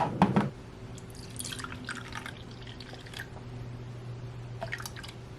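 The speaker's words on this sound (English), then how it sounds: "I'm going to add about a half cup of the cooled down milk" Cooled milk is poured into a small amount of yogurt, giving a faint liquid trickle and dribble after a brief clink at the start, quiet and close with no speech.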